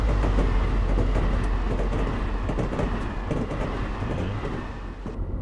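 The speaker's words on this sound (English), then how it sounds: "We can do a drive-by, so you can actually see the train come in." A Pacific Surfliner passenger train rolls past in Train Simulation 2015 on the LA to San Diego line, with a loud, steady low rumble and rhythmic wheel clatter that eases slightly over several seconds.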